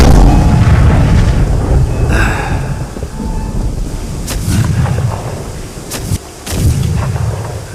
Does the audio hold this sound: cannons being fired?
yes